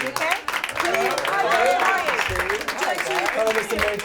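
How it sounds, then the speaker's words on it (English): A studio audience claps to welcome guests Luke Evans and Josh at a Disney masterclass with Alan Menken, with voices and chatter rising over the applause throughout. "Should we give a round of applause to Luke Evans and Josh?"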